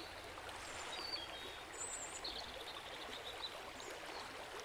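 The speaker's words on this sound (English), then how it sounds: "The water laps quietly against the shore" Lake water laps softly against a stony shore, a steady faint wash and trickle with no distinct waves, and a few faint bird calls in the distance.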